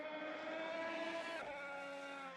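The Red Bull X2010 race car in Assetto Corsa screams at high revs around Spielberg, a sharp whining engine note that climbs, then drops abruptly with a gear change and keeps howling.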